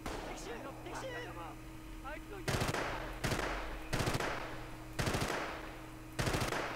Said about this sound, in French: Allez, on tire dans les fougères.